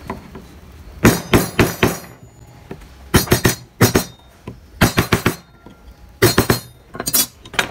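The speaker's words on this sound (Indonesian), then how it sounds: "menggunakan pahat kol." A kol chisel tapped while carving an ornament into wood, heard as about five close bursts of sharp, ringing taps in quick rhythmic clusters separated by short pauses.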